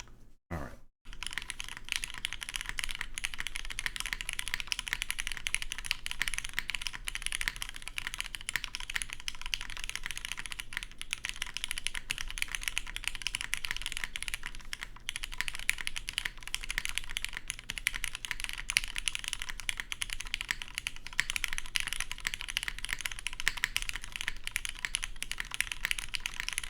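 Steady, continuous typing on a Perry IU keyboard with lightly lubed stock switches, a close, dense stream of crisp keystrokes running without pause.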